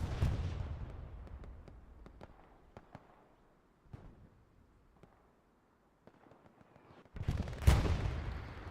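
Artillery battery firing in a World War II game battle on Omaha Beach, a few sharp distant thuds and crackles, then a loud booming blast near the end, with quieter scattered pops in between.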